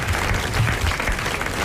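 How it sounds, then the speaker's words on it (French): A studio audience on a French radio or TV show applauds a prize winner in a brief, dense burst of clapping that stays steady and fairly loud throughout. "Monsieur Quénon de Morterie qui gagne ses 500 francs et que vous allez applaudir"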